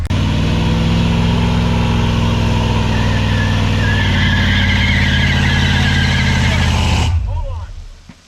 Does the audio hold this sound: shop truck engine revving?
yes